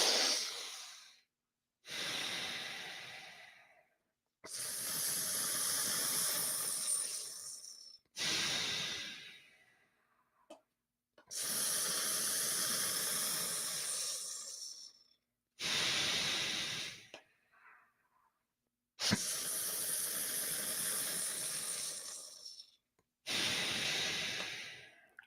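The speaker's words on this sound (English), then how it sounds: "Breathe in deeply." Deep nasal breathing exercise with one nostril blocked: long, loud, airy inhales and exhales come in repeated drawn-out bursts separated by short silences, close and alone.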